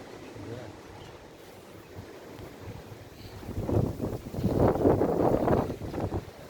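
Wind buffets the microphone outdoors during a wind turbine test, a low, rough rumble that swells into stronger gusts partway through and stays loud to the end.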